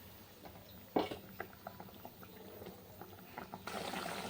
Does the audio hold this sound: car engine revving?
no